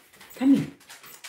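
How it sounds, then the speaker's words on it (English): A dog gives a short whimpering yelp indoors amid household commotion, a single brief vocal burst standing out against quiet background. "That's why they're barking."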